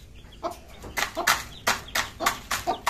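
Tiger breed rooster with its young chicks clucking close by, a run of short, repeated clucks in uneven bursts.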